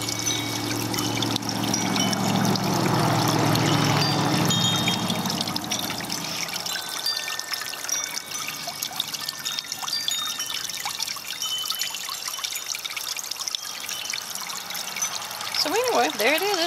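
A small pump running underwater in an African violet pot pours and trickles water steadily throughout, a continuous close splashing stream with no talk over it.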